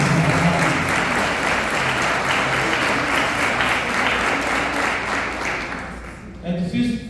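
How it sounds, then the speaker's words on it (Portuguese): Church congregation gives a round of applause to the Lord during a sermon, loud continuous clapping that tapers near the end as a voice returns. "dá uma salva de palmas para o Senhor"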